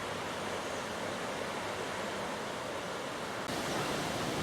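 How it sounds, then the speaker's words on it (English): A constant, dense rush of running river water near the A5 on a Snowdon walk in Wales, broadband and unbroken, growing slightly louder near the end. "pitch right by that so that you get the beautiful sound of running water"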